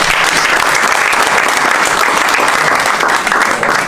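An audience in a library meeting hall claps dense, sustained applause, loud and close, with no pauses across the few seconds.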